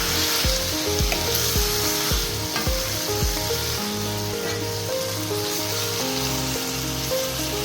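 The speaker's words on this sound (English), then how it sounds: "As the juice are coming out, we're going to stir it one more time, and then we're going to cover." Beef steak for Filipino bistek fries in a pan as it is stirred, a constant loud sizzle with rhythmic scraping strokes from a utensil against the pan.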